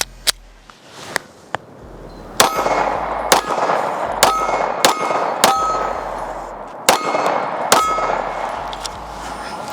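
Pistol shots ring off steel targets at a competition range, a steady string of sharp metallic clangs and dings spaced about a second apart, loud and close.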